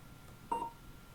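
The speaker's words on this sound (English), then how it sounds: "You heard it beep already. So every 30 seconds, it's going to beep." A single short electronic beep from a laboratory spectrophotometer's timer sounds once at moderate volume over faint room hiss, with no talking.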